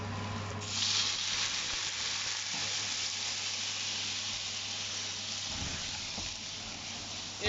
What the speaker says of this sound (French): On va venir déglacer avec un peu de rhum.